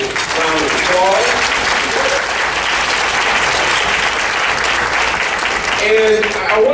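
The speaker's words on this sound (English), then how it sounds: "Please give them all a wonderful round of applause." Audience applause fills a conference opening, steady dense clapping from a crowd throughout, with a voice briefly audible over it near the start and again near the end.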